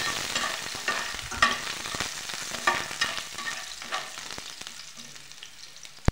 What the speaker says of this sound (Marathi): लसूण, थोडीशी कोथिंबीर, 2 मिनिटं मस्त परतून घ्यायचं.